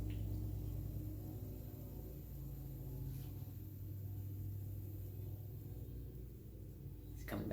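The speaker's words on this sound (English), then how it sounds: "The gardeners are driving by." A gardeners' vehicle drives past outside, heard indoors as a faint, low, steady engine rumble that holds throughout with little change.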